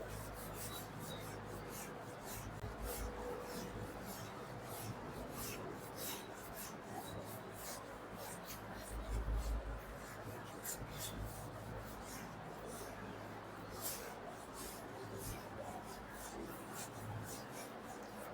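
A classroom board is wiped clean during a Class 12 maths lesson, giving a quiet, continuous rasping rub made of rapid back-and-forth strokes with no talk.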